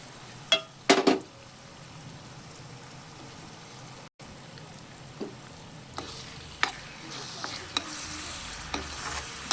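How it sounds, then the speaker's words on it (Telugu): Tomato puree frying in a pan for a gongura and raw prawn curry, with a steady soft sizzle and several sharp utensil scrapes and knocks as it is stirred, close and without talk. "టమాటో ప్యూరీ, అది కూడా వేసేద్దాము. వేసి 5 minutes వేగనిద్దాము."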